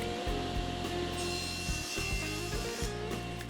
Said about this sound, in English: I cut a 1/4 inch piece of hardboard at the table saw for the back